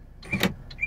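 A 2001 Saab 9-3 convertible's key-operated central door locks actuate in a quick, close whirring clunk, one brief burst followed by a fainter short click.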